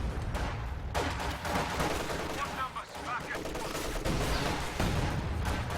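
A unit in Company of Heroes 2 fires continuous bursts of gunfire with sharp cracks and rattling volleys, layered over busy battle noise.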